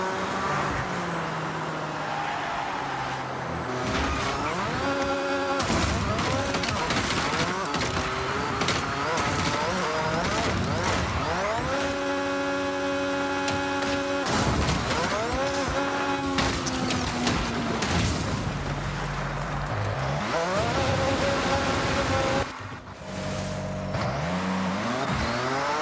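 Car engine droning steadily in a first-person driving video game, with revs rising and falling, gear shifts and occasional tire noise, loud and continuous under game music.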